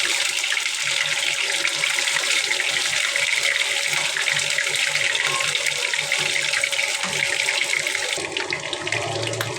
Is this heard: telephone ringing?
no